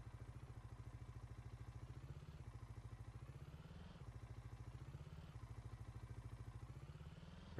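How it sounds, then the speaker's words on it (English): An ATV engine in Farming Simulator 19 drones as a steady, rhythmic low chug. Its pitch sweeps upward and then drops back in repeated cycles, like the vehicle accelerating and easing off several times. It sounds close and even, with no voices. "we'll jump into the ATV. Go for a little bit of a ride here"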